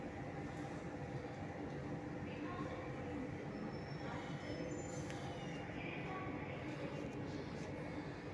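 A metro train pulls into Wimco Nagar station in Chennai, a steady continuous rumble of wheels and motors with faint squeals, heard up close for the whole stretch.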